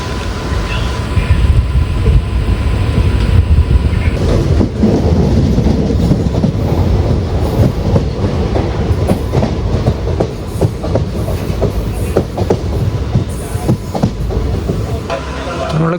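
A passenger train rolls along the Kerala line near Kuttippuram station, its wheels clattering in a steady clickety-clack over a loud continuous rumble, heard from on board.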